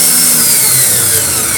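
Electric motor of a soft-start sliding gate drive running: a steady, close whirring hum with a faint high whine, holding even throughout with no voices.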